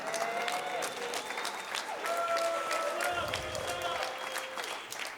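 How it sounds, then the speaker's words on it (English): An audience at a youth bike summit keynote applauds and cheers, dense continuous clapping with whistles and shouts throughout, fairly loud, with some voices mixed in. "Go ahead, keep cheering"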